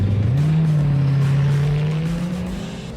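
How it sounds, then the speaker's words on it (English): A deep supercar engine drones loudly for a few seconds, its pitch stepping up once near the start with a gear-change clap, then fading slightly as it pulls away. "it has this incredible thunderous clap come from the engine"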